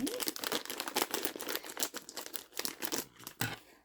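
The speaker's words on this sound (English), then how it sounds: "I think we're going to have to cut the bag." A snack bag being cut open with scissors: close, crisp crinkling and snipping bursts of plastic packaging in an uneven rhythm, with no talking.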